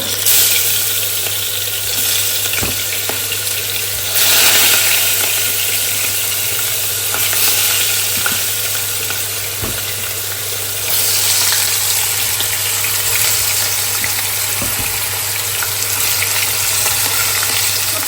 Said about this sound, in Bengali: মাছটা একটু ভেজে লালের ভিতর দিতে একদম জাস্ট হালকা করে